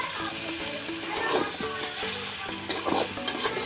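Spices for a semolina snack are stirred in a hot pan, with a steady oily sizzle and repeated scraping strokes of a spoon against the metal, close by.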